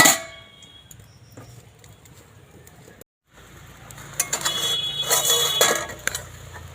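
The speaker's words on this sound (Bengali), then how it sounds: "ঢাকনাটা সরিয়ে দিলাম ছোলাটা সেদ্ধ হয়েছে কিনা দেখব" A metal lid lifted off a kadai of boiling chickpeas, starting with a sharp metallic clang and ring, then scattered clinks and a brief silence, followed by rising bubbling and steam hiss with more light metal clatter.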